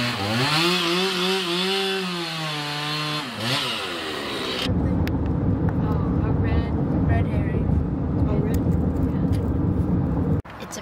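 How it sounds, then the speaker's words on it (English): Chainsaws cutting wood to carve statues at Big Bear, a loud steady buzzing engine roar that runs for several seconds after a burst of other sound, close and continuous. "these guys make all these statues with wood chainsaws"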